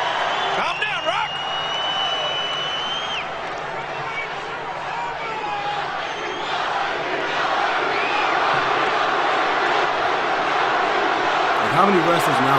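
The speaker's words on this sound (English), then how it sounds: "How many wrestlers nowadays that have an entire arena chanting their name?" Packed wrestling arena crowd chanting The Rock's name, a loud, sustained roar of many voices rising and falling in unison, with a few shouts and whistles near the start.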